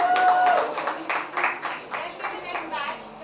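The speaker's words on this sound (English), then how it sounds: "Give them a round of applause." An audience claps in a quick round of applause, crisp rhythmic hand claps that are loud at first and gradually thin out, with a voice briefly heard at the start.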